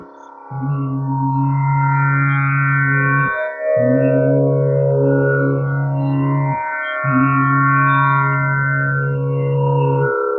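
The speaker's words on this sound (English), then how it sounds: "we are going to close our mouth completely and we are going to do the humming kind of sound" A singer hums with closed lips during a classical Indian vocal exercise in Raag Bhoop. Three long, steady tones are held one after another with short breaths between them, close, clear and alone.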